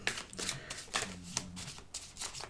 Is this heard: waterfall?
no